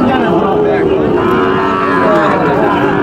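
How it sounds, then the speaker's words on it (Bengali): A young Nepal Gir heifer calf moos loudly and close by at a cattle market, one long drawn-out low call filling the whole moment. "দেখতে পাচ্ছেন অনেক সুন্দর একটি নেপাল গির বকনা বাছুর।"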